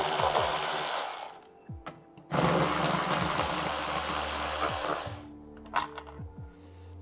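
A power driver buzzes in short bursts while backing T10 Torx bolts out of the roof latch on a C8 Corvette Z06, the motor whirring close up with brief pauses and small clicks between runs.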